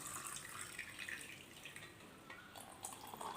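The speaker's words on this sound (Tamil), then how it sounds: "இதோட மீதி வந்து நார்மல் வாட்டர் நான் ஊற்றிக்கிறேன்." Plain room-temperature water is poured into a sipper bottle: a soft, steady trickle and splash, quiet and close, running continuously with no voices.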